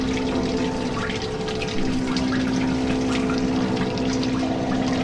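Water runs steadily in the horror video game Outlast, a continuous loud rushing, pump-like flow with a low hum and no break.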